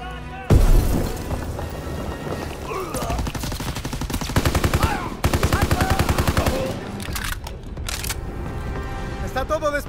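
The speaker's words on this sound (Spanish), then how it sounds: "¡Una granada!" A grenade blast and bursts of gunfire in a World War II combat video game, with a loud boom near the start followed by dense, rapid machine-gun fire and repeated shots, under game voices.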